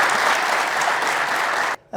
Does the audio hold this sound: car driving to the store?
no